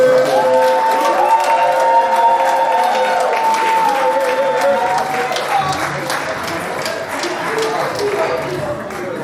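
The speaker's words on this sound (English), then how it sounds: "I want you to start clapping for this recipient before." An awards-gala audience claps steadily for a recipient, a loud continuous patter with some cheering, while a voice talks over it and the clapping gradually thins.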